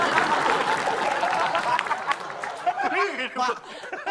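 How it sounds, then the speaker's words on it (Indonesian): Audience applause at a lively Indonesian comedy game show before final scores are read, clapping mixed with crowd chatter and chuckles, thinning out near the end as voices take over. "Kita kasih tepuk tangan dulu."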